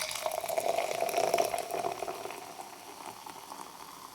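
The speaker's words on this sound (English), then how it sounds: "So let's pour some out." Cola poured into a glass, a fizzing, bubbling rush that is strongest for the first two seconds, then settles into a fading carbonated hiss.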